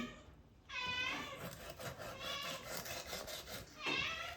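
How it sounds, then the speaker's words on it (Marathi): A cat meows repeatedly nearby in drawn-out, wavering cries while pomfret is being cut, with a short pause before a final loud meow. "मांजरसुद्धा ओरडते पापलेट मी कापते म्हणून."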